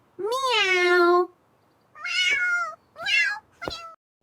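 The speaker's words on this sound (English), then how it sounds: "This is a cat. It said meow, meow." A cat meows four times, the first a long drawn-out meow and the next three shorter, close and clear with pauses between them and no talking.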